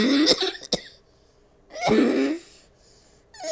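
Two harsh, raspy coughs burst out close up about a second apart, each trailing into breathy throat sounds, followed by a quieter wheezy breath.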